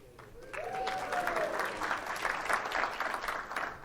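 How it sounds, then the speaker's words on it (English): Conference audience giving modest, polite applause that builds briefly and stays fairly faint and sparse, with a short vocal sound near the start. "That was like a polite golf clap."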